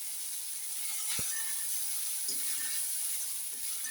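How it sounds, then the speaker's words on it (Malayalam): Cashews and raisins frying in a pan, a soft steady hiss with a few faint taps and stirring clicks, quiet and close, no talking. "കശുവണ്ടി മൂത്ത് വരുമ്പോൾ തന്നെ അതിൻ്റെ കൂടെ നമുക്ക് മുന്തിരിങ്ങ ഇടാം."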